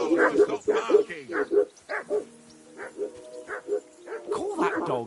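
Dog barking repeatedly in the medieval video game Kingdom Come, a run of loud, close yaps and barks with a few whimpering notes, mixed with people talking throughout.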